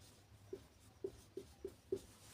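Five short, evenly spaced pen taps and strokes from hand-writing a Class 10 arithmetic progression answer, close and quiet against a soft room hiss, with no speech.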